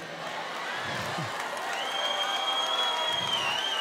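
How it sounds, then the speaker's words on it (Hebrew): Concert crowd at an outdoor show in Caesarea applauds and cheers in a dense, continuous wash, with a sustained whistle rising above it partway through. "אני רוצה שתעשו המון המון כפיים."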